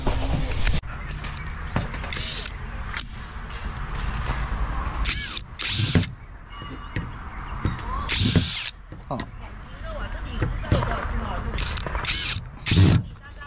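A power drill drives screws during a box truck camper van conversion, with bursts of whirring and ratcheting over clattering handling noise while people talk throughout.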